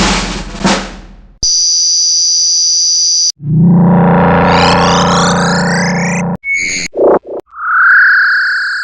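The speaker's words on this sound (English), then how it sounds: "Flame shot." Metal Slug's flame shot weapon: a series of loud synthetic arcade effects, a bright steady tone, then a roaring whoosh with rising sweeping tones, choppy bursts and a final rising buzz, with no voices.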